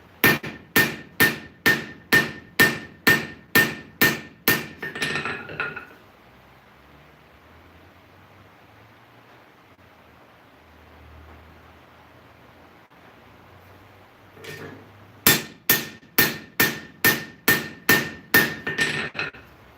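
Rapid, evenly paced hammer blows ring out against a hardened blade on an anvil, close and loud with a metallic ring, then a long quiet pause before another quick run of strikes.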